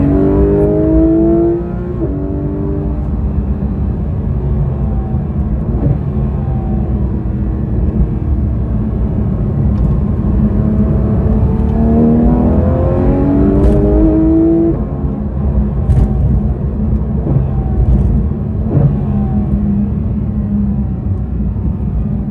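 A Porsche 911 GT3RS engine is driven spiritedly, revving up through the gears in repeated rising sweeps, loud and close, with brief quieter lifts between pulls.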